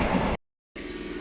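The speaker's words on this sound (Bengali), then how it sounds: "এই ট্রেনটা ছাড়লো" A local train pulls out of Kamarkundu station, giving a steady, close, broadband rumble and rattle that breaks off into a short silent gap before the noise resumes.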